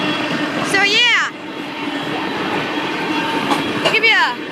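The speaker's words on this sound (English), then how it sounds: "I know, guys, we got a train." A Canadian Pacific train rolls steadily past a railroad crossing nearby, its heavy rumble and rattling wagons continuous, with two loud rising-and-falling squeals or horn-like wails breaking through and people talking now and then.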